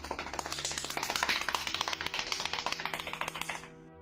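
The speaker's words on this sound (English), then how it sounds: "It's a little happy clap." Rapid, regular slaps of happy clapping and hands slapping thighs hard repeat in a quick, even rhythm, loud and close, then stop abruptly.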